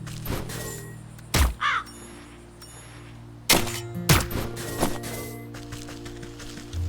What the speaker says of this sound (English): Got a whole bunch of crows.